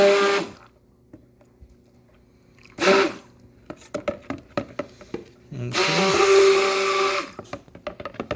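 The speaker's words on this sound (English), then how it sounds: "now we have our stick blender in here" A stick blender whirs in two short bursts and then one longer run while mixing soap made with seawater and lye, with clicks and handling noises in the pauses between.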